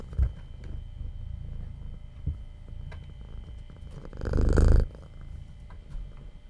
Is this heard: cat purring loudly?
yes